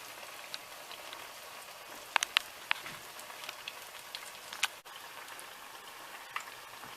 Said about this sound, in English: it's better to use a fork to drop the plantain into the hot oil